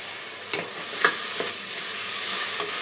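A spoon stirs added spoonfuls of spice into chicken frying in a pan, giving a few soft scraping strokes over a steady, close sizzle and hiss, with no one speaking.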